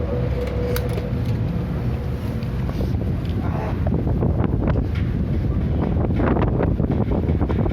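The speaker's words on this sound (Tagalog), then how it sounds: "Grabe yung hangin dito." Strong wind buffets the microphone in a steady, loud roar throughout, with faint splashy movement beneath it.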